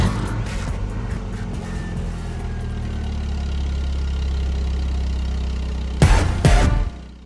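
A car engine idles steadily with a low, continuous rumble for several seconds, then revs or cranks in a couple of louder bursts near the end, with no talk.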